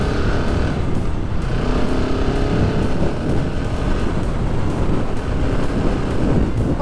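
Husqvarna 701SM motorcycle riding with heavy buffeting wind noise, a loud constant roar masking the engine as it accelerates, no voices.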